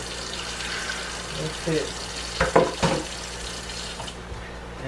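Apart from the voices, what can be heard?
water being added while cooking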